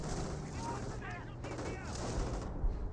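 Sustained gunfire rattles from a half-track in a Company of Heroes battle, a dense continuous barrage with engine rumble beneath and a voice talking over it.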